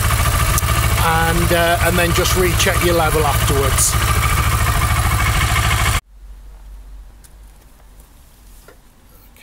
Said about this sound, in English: And you just run the engine for a couple of minutes